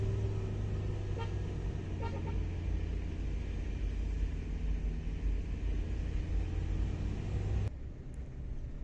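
A car grinds up a steep road to Kintamani's black lava area in first gear, a steady low engine rumble and drone holding close throughout, with faint toots early on and a sudden drop in the rumble near the end.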